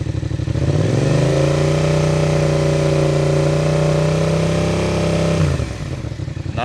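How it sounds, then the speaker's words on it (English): An engine revved hard through an exhaust baffle packed with fiberglass mat gives a loud, sustained mid-pitched drone that climbs, holds steady for several seconds and then drops back to a rough idle. "Let's give it the rev. Seems to be flowing good."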